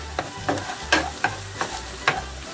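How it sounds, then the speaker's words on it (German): Onions stirred in a hot pan over high flame, with a spoon scraping in regular strokes about every half second over a steady low frying sizzle, close and moderately loud. "Die Zwiebeln können dann auch schon damit untergerührt werden."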